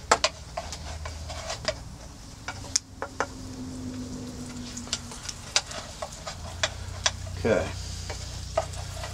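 Bacon frying in grease crackles and sizzles steadily, with frequent sharp pops and spits and a utensil scraping once; a single short word is spoken.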